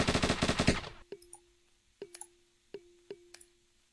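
Video-game MP5 submachine gun fires a rapid, loud burst of shots, then three single cracks spaced about a second apart, each followed by a ringing metallic tone.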